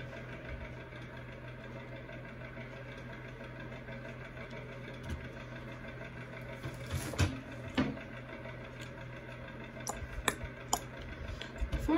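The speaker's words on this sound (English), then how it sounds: "see the combine coming up here" A combine harvester's engine drones steadily in a field, a continuous mid-pitched hum with a few brief knocks and clatters toward the end.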